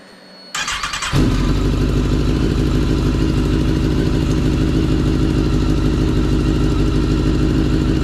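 A Kawasaki ZX10R motorcycle engine, freshly swapped into the bike, turns over and fires up, then idles loudly and steadily close by with a busy mechanical clatter.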